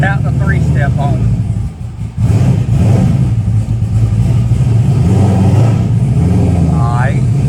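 A GTR car engine revs loudly with its 3-step launch control switched off, a dense sustained roar that dips briefly near the two-second mark before surging again.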